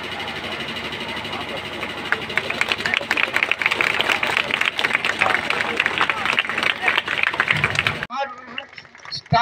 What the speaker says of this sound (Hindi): ताली एकदम जोरदार दो